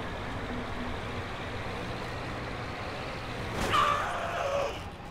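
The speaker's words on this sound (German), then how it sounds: "Ich will auch mit dem dicksten Auto hier um die Ecke fahren." A big car driving in the zombie video game Dead Island, a steady low engine rumble with a brief hiss and rattle near the end, no talk.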